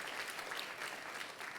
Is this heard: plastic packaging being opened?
no